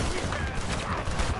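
Gunfire in the video game Red Dead Redemption: a dense fusillade of overlapping shots crackles continuously over a noisy battle scene, with voices shouting underneath.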